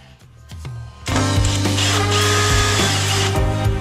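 An extra-long 5.5mm drill bit bores a pilot hole into a Landcruiser HJ47 tray back. A power drill whirs up, then settles into a loud, steady, close grinding whine with small shifts in pitch as it cuts.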